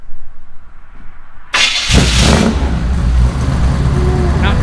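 Quiet background gives way to a starter cranking and an engine catching, then settling into a steady, loud idle with a slight rev.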